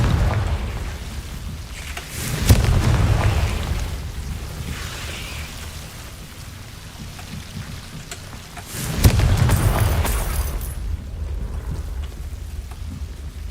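Confringo explosion spell cast in the Hogwarts Legacy video game: two loud, booming blasts several seconds apart, each a sudden broadband burst with a rumbling decay over a steady ambient background.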